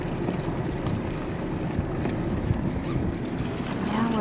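A motor yacht's engine idles near a marina on the Great Loop route around Oswego, New York, giving a steady, loud low rumble with churning water noise throughout.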